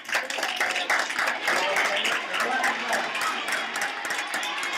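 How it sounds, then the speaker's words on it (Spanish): A crowd at a team presentation claps together, a thick, even patter of many hands that holds steady throughout without a break. "Un fuerte aplauso para vosotros porque habéis estado callados."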